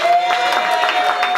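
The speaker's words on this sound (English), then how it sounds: "give a round of applause to my brother man" Audience at a music industry night applauding and cheering a DJ, a brief burst of dense clapping and crowd noise with a faint whistle-like tone running through it.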